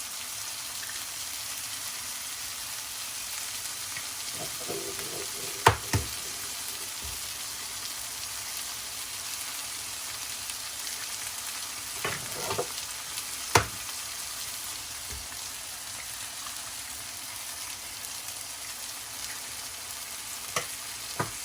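Beaten egg poured over potatoes and tomatoes in a pan on low heat for an Afghani omelette, sizzling in a steady soft hiss with a few sharp clicks and utensil taps through the frying.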